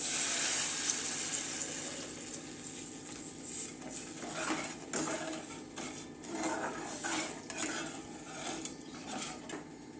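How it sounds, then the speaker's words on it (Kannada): Buttermilk is poured into a pan over low heat with softened tomatoes and stirred, giving soft liquid sloshing and light utensil clinks against the pan, faint and close with no talk. "ಈಗ ಉರಿ ಕಮ್ಮಿನಲ್ಲಿ ಇಟ್ಕೊಂಡು ಈಗ ಮಜ್ಜಿಗೆ ಸೇರಿಸ್ಕೊತಾ ಇದ್ದೀನಿ"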